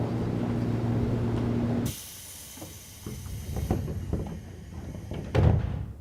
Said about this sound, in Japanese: 6番線ドアが閉まります。